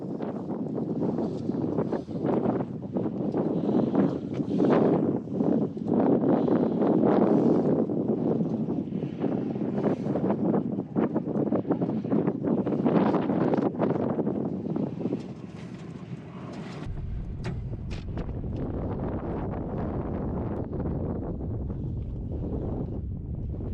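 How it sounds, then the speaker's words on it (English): Strong wind roaring across the microphone in continuous heavy gusts on the western Kansas High Plains, easing slightly toward the end into a lower steady rumble. "It was very windy here on this day."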